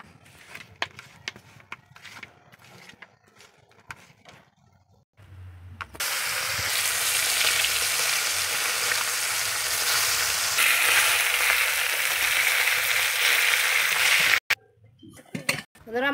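Large pieces of silver carp frying in oil in a pan, a loud, continuous hiss that starts abruptly after some quieter clattering and handling noises, then stops sharply near the end.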